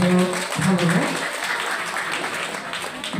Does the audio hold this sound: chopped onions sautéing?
no